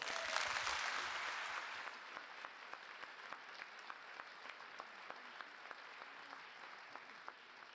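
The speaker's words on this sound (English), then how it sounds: "Give him a round of applause, Adriaan van Dis" Applause from the audience at a lecture programme, dense at first and then thinning into scattered, faint individual claps that repeat at fairly regular intervals as the clapping dies away.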